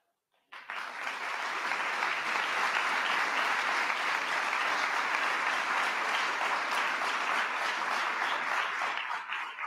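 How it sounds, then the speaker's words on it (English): An award ceremony audience breaks into sustained applause, a dense, even roar of many clapping hands that starts abruptly and holds steady at full strength, with no talk over it. "And I wish they could be here to hear your applause."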